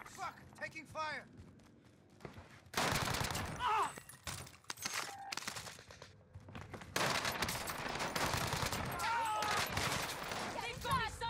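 Heavy automatic gunfire in a Call of Duty Rebirth match using a Kilo 141 rifle, arriving in loud dense bursts after a quieter start, with footsteps and game voice callouts mixed in.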